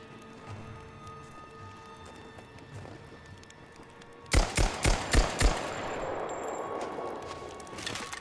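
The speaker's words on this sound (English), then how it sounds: "anyone would have heard the gunshots way before you came to the camp" Gunfire in the Rise of the Tomb Raider video game, a quick burst of about five sharp, loud shots after a quiet stretch of ambient game background.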